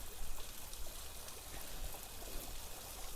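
Waterfall beside the Cangar twin bridges, swollen in the rainy season: a steady rushing, trickling wash of water that fills the whole stretch without pause, with no talk over it.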